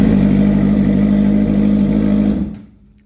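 Suzuki GSX-R600 engine in a crosskart running at a steady loud idle close by, then cutting off abruptly and falling silent.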